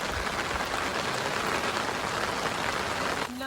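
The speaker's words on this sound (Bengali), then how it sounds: "প্রচন্ড বৃষ্টি হচ্ছে।" Heavy rain falls during fishing with a China net, a dense, continuous hiss of drops on surfaces, loud and close, with a brief lighter knock near the end and no talking.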